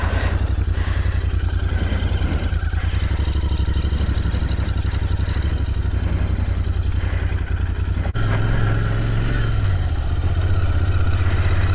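A 2022 Royal Enfield Interceptor 650 with its 648cc inline twin engine running nearby, a steady loud throbbing idle with a deep pulsing rhythm that shifts slightly higher near the end, no voices.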